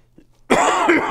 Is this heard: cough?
yes